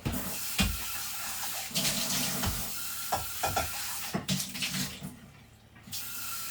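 Water runs from a kitchen tap during cooking at home, a steady broadband rush broken by clatter and stirring noises, fairly close and continuous without speech.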